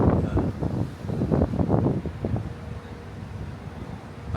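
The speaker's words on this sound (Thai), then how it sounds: "อากาศดีเนาะลมพัดพี่น้อง" Gusty wind blows near the sea in Alameda, California, buffeting the microphone in loud rushing bursts during the first half, then settling to a steadier, softer rush. No one speaks.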